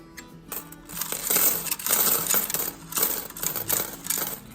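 Dimes pour out of an old slot machine in several loud, close bursts of clattering metal, each lasting about a second.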